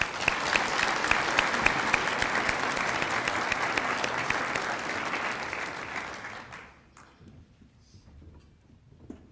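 Luncheon audience applauding honored girls and women athletes: dense, sustained clapping from many hands that holds steady for about six seconds, then thins out and fades to a few scattered claps.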